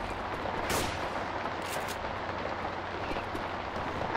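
Gunfire in the Left 4 Dead 2 video game on a rainy campaign: a dense, steady wash of shots and noise with a few sharper cracks rising above it, loud and continuous throughout.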